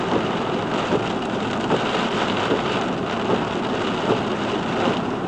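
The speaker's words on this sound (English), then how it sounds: "Oh, this storm came out of nowhere too." Heavy rain pours steadily during a night drive in a sudden thunderstorm, a dense constant hiss with low rumbling thunder underneath, heard from inside the car with no talk.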